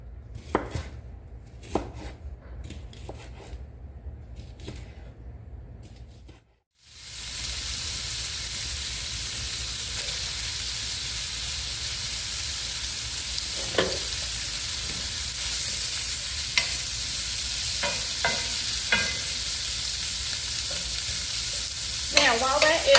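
A smoked sausage browns in a skillet with a loud, continuous close sizzle lasting most of the clip, after a quieter opening of knife chopping and clatter, with occasional spoon scrapes and clinks.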